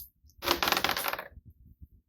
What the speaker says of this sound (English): So now it's my turn to roll the dice.